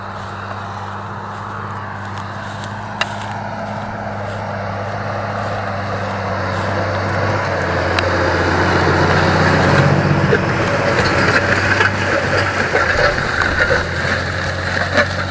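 A Fendt LSA 614 Turbomatik E tractor pulls a disc harrow across a field, its engine droning steadily and growing louder, with a low rumble and broadband churning noise throughout.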